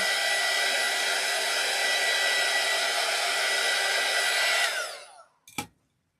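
A hair dryer blows steadily on alcohol ink laid on a ceramic tile, a loud close whooshing roar that holds for several seconds, then winds down and cuts off with a brief knock.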